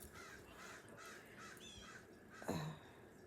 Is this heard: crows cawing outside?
yes